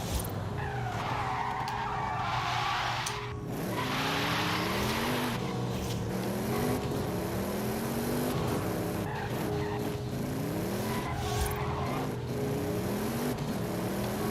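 A car in a racing video game drives hard with a continuous engine drone, repeated rising gear-shift sweeps and long tire squeals through turns, loud and steady throughout with no talking.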